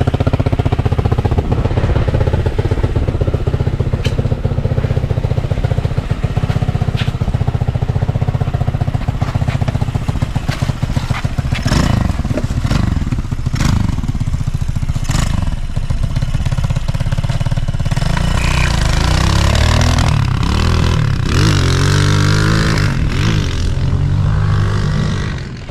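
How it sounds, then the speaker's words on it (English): A four-wheeler fitted with a 250 motorcycle engine runs loud and close, its rough, sputtering exhaust idling unevenly and then revving in rising bursts toward the end. "We had a jump starter because you got a little bitty battery on it,"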